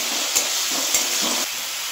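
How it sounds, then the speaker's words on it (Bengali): A spoonful of onion paste goes into a hot frying pan with chicken stomach and meat, giving a steady close sizzle and a couple of soft stirring knocks, with no talking. "পেঁয়াজ বাটাটাও আমি এর মধ্যে দিয়ে দিলাম।"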